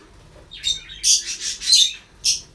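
A pet bird being hand tamed gives a short run of bright, shrill chirps and squawks, close and fairly loud, in bursts with brief pauses and a final call after a gap.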